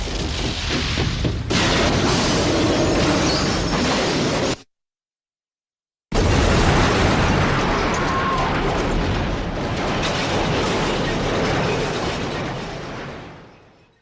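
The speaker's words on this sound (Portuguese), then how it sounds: "assim que a estação de treinamento explode ao mesmo tempo, junto com a escola de treinamento" A training facility explodes in the Resident Evil video game: a massive, sustained roaring blast fills everything, cuts out briefly, then resumes as a long rumbling explosion that slowly fades at the end.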